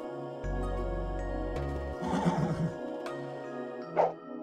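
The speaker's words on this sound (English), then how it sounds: "do not neigh from your fucking stall" A horse whinnies once near the end, a short bright neigh over game music and background tones, in the video game Let's Ride! Silver Buckle Stables.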